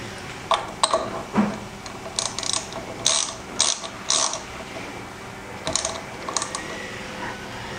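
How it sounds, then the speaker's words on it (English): A 10mm socket ratchet snugs down an SDi Elite bladder cap on a 2017 Honda CRF450, giving quick, close clicking strokes in short irregular clusters over a faint steady background. "this uses a 10mm socket that we're going to just snug down till it's tight"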